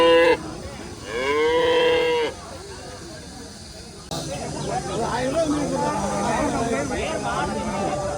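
Cattle moo loudly at a livestock market in Seenapuram, Erode, with a long harmonic call early on, then market crowd chatter and voices filling the rest.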